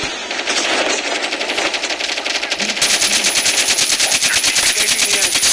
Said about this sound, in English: They're using AK-47. No, he shot me.